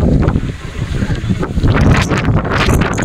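Heavy January wind at People's Park in Tagaytay City buffets the microphone throughout, a continuous loud rumbling roar with gusty swells and no clear voices.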